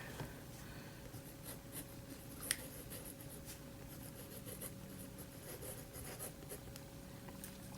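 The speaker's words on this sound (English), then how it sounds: "Let me just give you a little writing test here." A fountain pen with a medium engraved nib writing on paper, a very quiet, close scratching of short strokes and scribbles with one brief tap, no talking.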